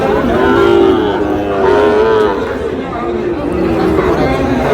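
A Sahiwal bull calf lowing at a busy cattle market, several drawn-out moos rising over constant crowd chatter and nearby voices.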